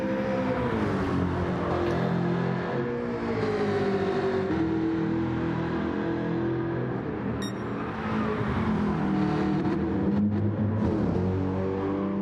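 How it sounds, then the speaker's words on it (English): Mercedes V8 race car in a Bathurst sim racing game, its engine droning continuously through the whole stretch with shifting pitch from gear changes, steady and fairly loud rather than faint, with no voices over it. "can just hear the Mercedes in the distance there."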